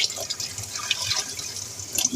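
Pinkie maggots being rinsed in water, with close trickling and dripping splashes and faint sink sounds throughout the short stretch.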